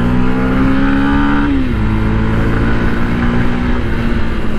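Yamaha adventure demo bike with its stock exhaust, ridden on a highway in eco mode: a steady, loud engine drone that rises in pitch and then drops as the rider shifts, running continuously and close.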